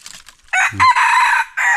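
A rooster crows once, loud and close, with a brief cluck before the drawn-out call and a final rising note.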